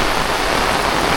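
Heavy evening rain in rural Konkan pours down in a steady, dense, loud hiss with no break and no voices.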